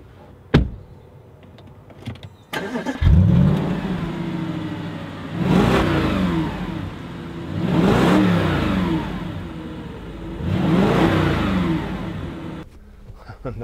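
A 2015 Audi RS4 Avant with its 4.2 TFSI engine starts up, then revs hard through three loud, rising accelerations while driving, each pull swelling and easing off, with door and interior clicks at the start.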